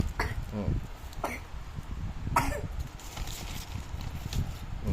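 Someone coughs several times in short, close bursts at a home, over light background noise.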